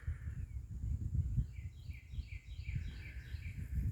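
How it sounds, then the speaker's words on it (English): An unidentified wild bird repeats a rhythmic series of short, rising call notes outdoors at a moderate distance, over a steady low rumble of wind or background noise. "Does anybody know what bird type this is?"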